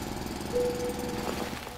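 Rumbling, grinding drill boring into the ground in the automation game Foundry, a steady mechanical drone with a faint whine, continuous and moderately quiet throughout without talk.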